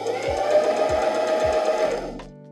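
Domestic sewing machine stitching an elastic strap for a tricot bralette, a steady close whirring run of rapid needle strokes that stops abruptly near the end.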